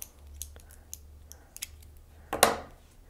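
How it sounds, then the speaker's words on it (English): Scissors snip through plied yarn in a quiet room, a few soft clicks and small handling taps leading up to one crisp, close cut near the end, with no talking. "I'll cut the yarn there and separate the plies and cut an inch out of this one."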